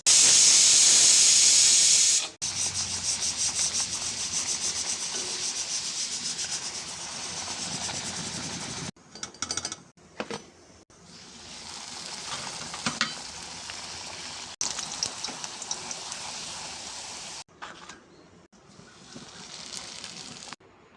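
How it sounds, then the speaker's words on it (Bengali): Luchi deep-fry in a pan of hot oil on a home kitchen stove, a loud continuous hissing sizzle that fades and returns in stretches, with no talking. "আর এই যে তেল বসিয়ে দিয়েছি, লুচি ভাজবো।"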